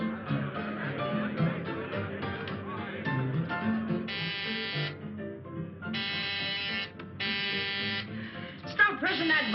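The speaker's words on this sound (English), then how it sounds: "Stop pressing that buzzer." An insistent door buzzer in a 1940s crime film, pressed repeatedly in several long bursts of steady buzzing with short gaps between them, over background music and sound.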